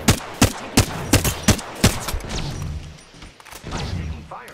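Gunfire from Apex Legends rings out as a string of sharp, loud, evenly spaced shots, giving way to a rougher, noisier stretch of combat sound.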